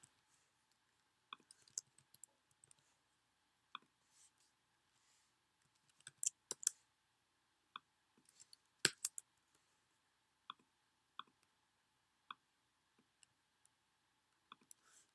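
A computer mouse clicks sparsely during spreadsheet work, single quiet clicks at irregular intervals with a few short clusters and one sharper snap, in an otherwise silent room.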